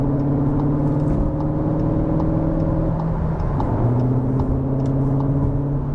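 Synthetic engine sound from a 2025 CUPRA Terramar VZ First Edition hybrid under acceleration, a steady droning hum with stepped rising tones, continuous and close, no talk.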